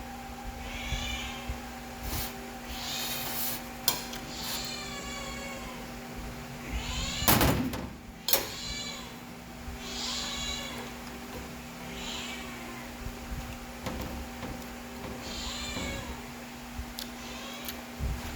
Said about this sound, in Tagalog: May pusa pa akong kasama.